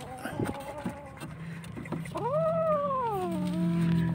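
A kitten lets out a drawn-out, wavering growl close by, rising then sinking, over soft chewing and rustling sounds as it eats chicken.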